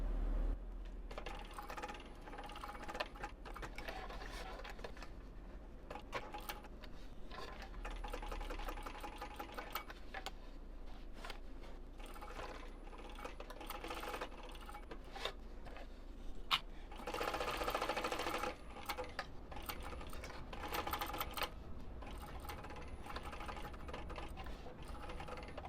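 A sewing machine runs in short stop-start bursts while stitching a seam around a shoulder bag panel, close and quiet, with small handling clicks and rustles between runs.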